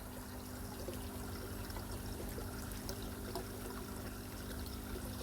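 Water pours from a pond pump's outlet spout into a rebuilt sleeper pond as a soft, continuous splashing trickle. It sounds faint and even, with a low steady hum beneath.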